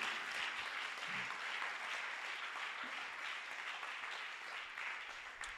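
A congregation applauds the Lord in a church worship service, steady broad clapping from a large crowd sustained throughout, fairly distant and even in level.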